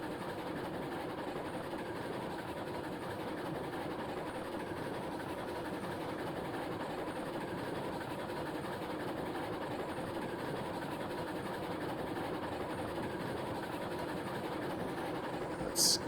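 Steady rolling rumble and rhythmic clatter of a steam locomotive under power in Railroads Online, continuous and fairly close, ending with a brief sharp knock.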